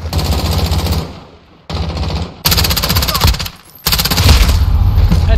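Rapid automatic gunfire in Call of Duty Modern Warfare, Hardcore Domination on the Talsik Backlot map, loud sustained bursts separated by brief pauses, with a voice speaking underneath.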